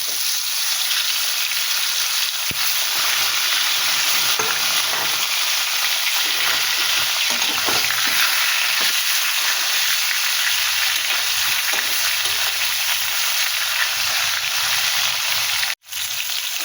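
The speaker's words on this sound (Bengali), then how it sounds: "মাছটা দিয়ে দিলাম ভেজে" Loud, constant sizzling of tilapia fish frying in hot oil, with faint pops and a brief clatter near the end.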